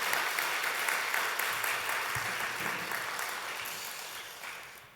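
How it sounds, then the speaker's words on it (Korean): Sustained congregational applause of thanks at a church revival service in Korea, a dense, even patter of many hands that slowly fades over several seconds. "우리 다시 한번 감사의 박수 함께"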